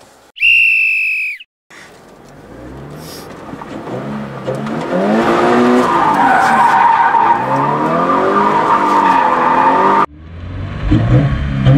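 Toyota 86/BRZ drifting, a loud sustained tire skid and squeal with the engine revving and rising under it, close and continuous for several seconds after a brief high whistle-like tone at the start.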